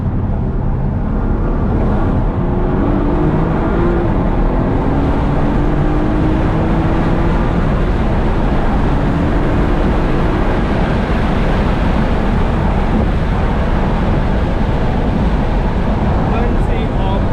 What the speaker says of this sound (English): And the natural GTR sound as well